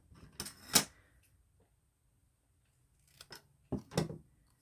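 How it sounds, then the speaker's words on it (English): A chomper cutter cutting a gold paper strip: a couple of crisp, close snipping clunks, a pause of near silence, then another cluster of sharp cutting clicks. "I think I'll have to cut this with my chomper"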